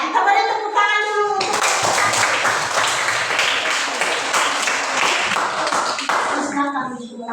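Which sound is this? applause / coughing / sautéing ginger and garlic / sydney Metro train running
applause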